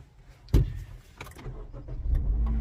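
A car engine turns over with a sharp crank near the start, then catches and rises into a low, close idle over the final second, with small rattles and clicks inside the cabin.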